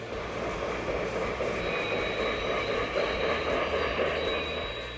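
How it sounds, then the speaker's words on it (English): A model Frisco steam locomotive pulls Katy livestock cars around a small loop of track at a model railroad show, a steady close rumble and clatter of wheels with a faint whine above it. "this little Frisco steamer led up some Katy livestock cars around the loop of track"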